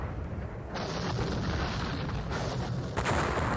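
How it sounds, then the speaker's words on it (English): Artillery fire in the John Tiller Napoleonic Series game, a continuous rumbling din of cannon booms layered together, steady and moderately loud, with a brighter crackling burst near the end. "Some effective artillery fire there."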